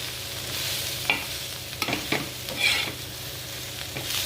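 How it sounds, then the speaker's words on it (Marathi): Okra with spices fries in a pan, a continuous close sizzle broken by scraping, clinking stirs of a spoon against the pan. "त्याच्यामध्ये भेंडी टाकून घ्या. आता परत हलवून घ्या."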